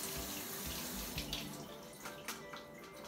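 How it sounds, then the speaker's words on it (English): Cool water runs steadily from a kitchen tap as strawberries and blueberries are rinsed, a close, continuous splashing stream with no talk. "Strawberries, blueberries, wash those off with cool running water as well."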